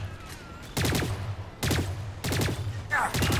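Four loud gunshots in the video game Lost Planet 3 ring out at uneven intervals, each a sharp crack with a booming tail, close and dominant over a low background hum.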